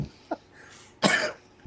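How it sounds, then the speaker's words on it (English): A person coughs after a fit of hard laughter: a short faint cough, a pause, then one strong close harsh cough and the start of another, recorded over a quiet online call. "I laughed so hard it made me cough."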